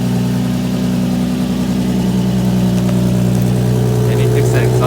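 A steady, throaty idle from an Infiniti G35 with a manual swap and an exhaust leak, holding an even low rumble throughout at close range, no speech over it.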